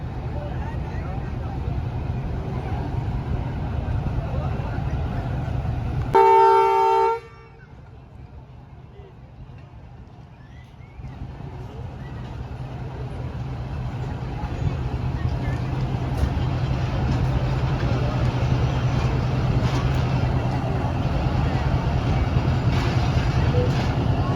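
The Allama Iqbal Express train departing a station for Lahore, a continuous low rumble of the moving train that dips after a brief tonal burst, then builds again, with a voice talking over it.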